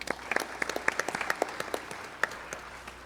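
Sparse, scattered clapping from a small audience at an arangetram classical dance recital, faint and uneven, with individual claps popping out over a quiet room.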